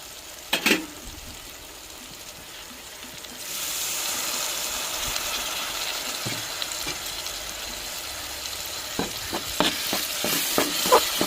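Onions, garlic, tomato and green chillies sauté in hot oil with spices, a steady close sizzle and hiss starting a few seconds in, with a spoon stirring and scraping the pan in several knocks.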